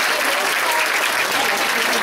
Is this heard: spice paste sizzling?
no